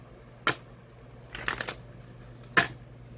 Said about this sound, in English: let me just do a shuffle for card 2